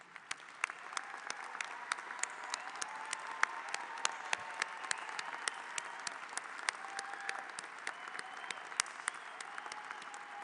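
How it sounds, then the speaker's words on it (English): Audience applause at a Virginia Tech graduate school commencement ceremony: steady, dense clapping from a large crowd, moderately distant and sustained throughout with scattered sharper individual claps. "join me in a round of applause in recognition of your accomplishments"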